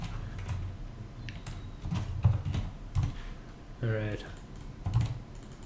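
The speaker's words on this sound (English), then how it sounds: "I'm going to type it in over here where I can see what I'm typing." Typing on a computer keyboard, a close, rapid run of clicking keystrokes with a few louder key presses, while someone speaks briefly.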